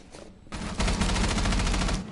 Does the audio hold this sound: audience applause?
no